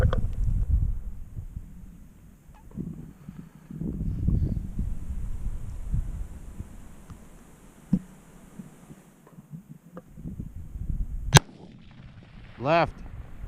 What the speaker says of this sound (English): so he's gonna shoot one more time